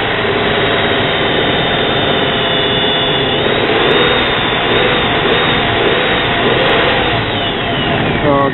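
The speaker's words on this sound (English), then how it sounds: "I like to rev the engine a little." A loud, continuous truck engine roar holds steady for several seconds, with slight rises and falls in pitch as the revving varies, up close.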